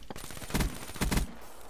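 Video game gunfire in Black Ops 3 gun game mode, two short bursts of rapid shots with a thump at the start, close and punchy, no talking.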